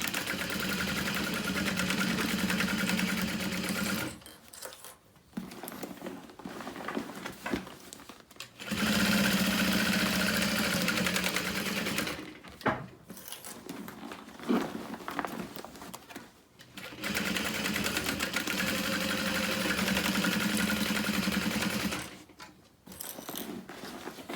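A sewing machine runs in three long bursts, top stitching a handbag at a 4.5 stitch length and back stitching over a side seam, each steady whirring run separated by short pauses.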